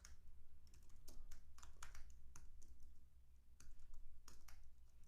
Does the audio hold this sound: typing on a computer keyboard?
yes